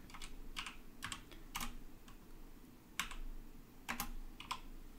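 Quiet close typing on a computer keyboard, several quick bursts of key clicks separated by short pauses, soft and crisp with no talking.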